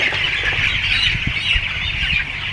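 Chickens on a broiler poultry farm during a live-weight check, heard as a steady, dense flock chatter with scattered clucks and squawks and brief low thumps of handling, continuous and fairly loud throughout.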